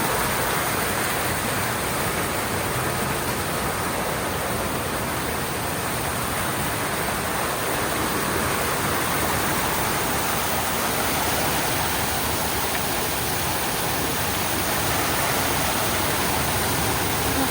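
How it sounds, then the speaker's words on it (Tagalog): A steady, loud rush of falling water from a waterfall at an outdoor spot with fish below, filling the whole stretch as an unbroken broadband roar. "Pagbagsak ng tubig dito"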